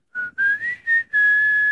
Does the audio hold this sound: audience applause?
no